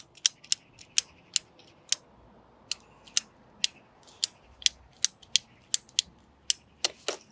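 A ratchet-style pipe cutter is worked through a length of pipe, giving a steady series of sharp, close clicks, roughly two or three per second in a slightly uneven rhythm, over a quiet outdoor background with no talk.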